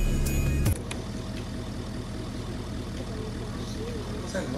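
A low, steady car engine rumble idles continuously beneath Fortnite game sounds, with a brief brighter burst at the start and voices faintly present.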